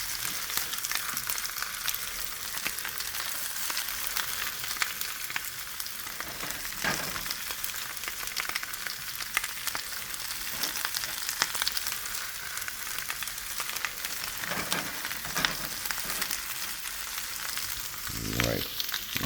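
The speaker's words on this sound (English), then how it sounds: "I'm just going to let that sit on a fairly high heat, and I'm going to let those brown." Bok choy frying and browning in a hot pan over fairly high heat, a steady, faint sizzle that continues unbroken for a long stretch with occasional soft shifts.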